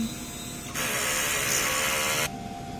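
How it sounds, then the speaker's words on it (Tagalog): A DTF printer runs a print head cleaning cycle, a steady mechanical hum that jumps into a louder, brighter whirring drone for about a second and a half before dropping back to the quieter running sound. "Ito naman ang ating printer head. Head clean."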